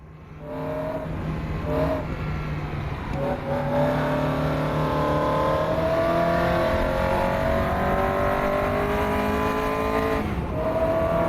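A loud Caterham race car engine in a racing video game revs continuously, its high-pitched four-cylinder whine rising and falling through gear changes, with no talking.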